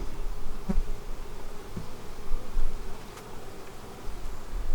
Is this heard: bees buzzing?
yes